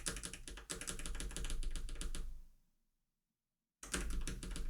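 Keys on a MacBook keyboard are pressed in quick clicking taps, held shortcut combinations heard up close and fairly quiet, falling silent for about a second before resuming.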